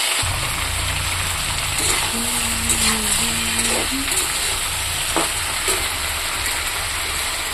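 Ginger frying in a pan, a constant dense sizzle with a low rumbling hum underneath and a few brief scrapes and tones scattered through.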